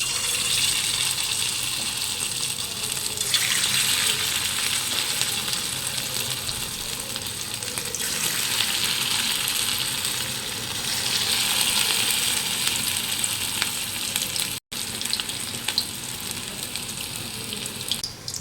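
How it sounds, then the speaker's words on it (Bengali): Loud, steady crackling and sizzling of chicken pakoras frying in hot oil, continuous throughout with slight swells, no talking. "এবার আমি চিকেন পকোড়াগুলো একটা একটা করে তেলে ছেড়ে দেবো"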